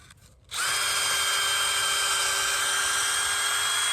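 Power drill spinning up sharply and whining steadily at high speed while pre-drilling a hole for a pasture fence setup, loud and close with no talk over it.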